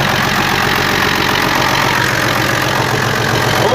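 FNM 180 truck engine idling after three years parked, a loud, steady, close diesel rumble with a rough knocking texture, continuous throughout.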